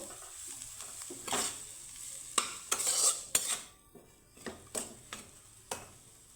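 Boiled potatoes being stirred and fried with a spice mix in a pan: a soft continuous sizzle broken by repeated sharp scrapes and clinks of a spoon against the pan, irregular and close.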